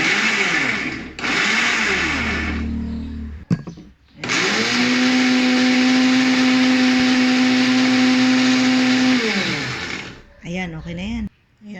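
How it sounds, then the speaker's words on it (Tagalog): A blender motor roars loudly and steadily for several seconds, with shorter whirring bursts before and after the main run. "Eh, blender natin."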